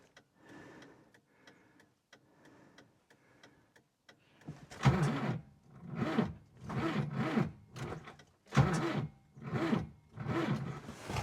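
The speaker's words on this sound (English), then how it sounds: "And now let's see if it's cranking." A hard-starting tractor engine turns over on its starter motor in a steady run of rhythmic chugging pulses, which begin loud after a few seconds of faint ticking.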